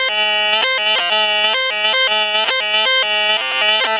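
A White's MX Sport metal detector in Relic mode gives off a loud, warbling electronic hum, its tone stepping up and down in rapid repeated bursts of about half a second each, a close, steady and tonal sound with no voices.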